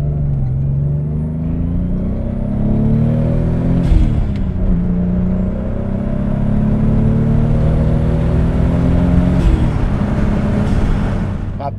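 A Toyota Supra MK4 with its 2JZ-GTE turbo engine revs loud and close, pitch climbing and holding before two sharp blips around the middle and near the end, then settling back to a steady drone.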